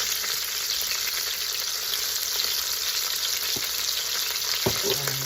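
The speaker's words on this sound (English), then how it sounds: "Okay, our lamb is nicely seared on the outside." Lamb pieces searing in an Instant Pot give a steady, close hiss and crackle of frying, with a few small pops and a brief clink of a utensil near the end.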